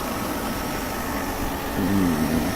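A Mercedes R129 300SL with its M104 engine idles in a steady, even mechanical hum. A brief tonal sound rises over it near the end.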